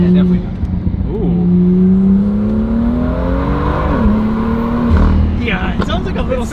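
A BMW M2 F87 fitted with a new intake revs up and down in rising, falling sweeps, its engine tone loud and close, while people talk over it.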